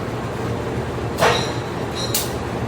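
A vintage-livery CC 203 diesel locomotive being shunted at Kutoarjo station gives a steady low rumble of engine and rolling stock, with two brief bright hissing or squealing bursts.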